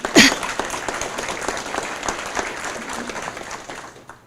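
A civic audience at a state-of-the-city address breaks into applause, a dense steady patter of many hands that starts strongly, holds for a few seconds and tapers off slightly at the end.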